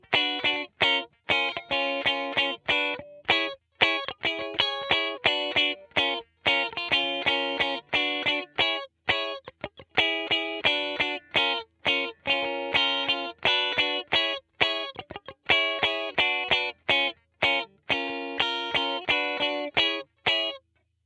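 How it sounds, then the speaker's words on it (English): A used 2008 Gibson SG Special Faded electric guitar played with clean tones: chords and picked notes ring out in bursts with brief gaps, bright and full, no voice over it. "Now let's check out the guitar with some clean tones."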